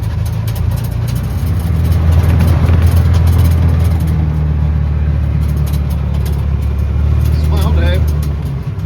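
UTV engine running on a desert tour near Kanab, Utah, a loud steady low drone and rumble throughout, close by, with a brief voice near the end.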